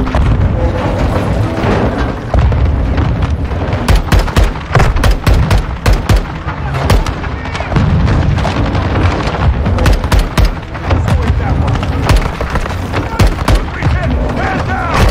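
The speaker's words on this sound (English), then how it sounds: "They're launching grenades!" Grenade explosions and dense gunfire fill a battle in the video game Modern Warfare 2, loud and continuous with booming blasts and rapid shots, while soldiers' voices shout over the chaos.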